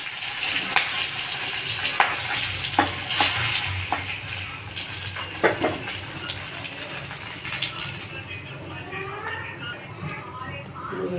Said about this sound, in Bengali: তেল দিয়ে এর মধ্যে আমি একে একে জিরা, গরম মশলা আর শুকনো লঙ্কাগুলি দিয়ে দেবো